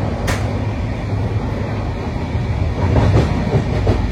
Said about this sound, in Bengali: এখনো তো সবে ট্রেনটা ছাড়লো।